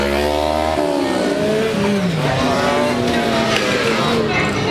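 A Honda CG motorcycle revs and roars past at a wheelie stunt event in Mogi Guaçu, its loud engine note rising and falling amid crowd noise and other bikes, with people talking nearby.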